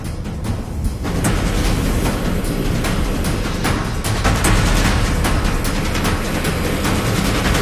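A loud, continuous rumbling and clattering of a roller coaster train climbing toward the crest on its track, with rhythmic clanks repeating throughout as it moves steadily.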